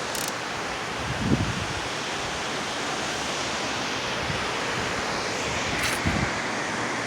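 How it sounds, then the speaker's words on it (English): Ocean waves wash against the shore in a steady, broad rushing roar with a couple of slightly stronger surges, heard up close and alone without voices. "So hopefully you could see that is the ocean."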